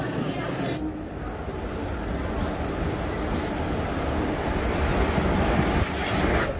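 A passenger train coming in from Velliputram rumbles steadily and loudly into a station, a continuous, slightly swelling roar, while people talk nearby.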